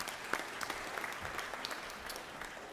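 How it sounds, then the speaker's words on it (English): Applause from an audience in the Georgia Senate chamber, a steady wash of many hands clapping at moderate distance, fairly even in level throughout with no voices standing out. "So please give her a round of applause as well."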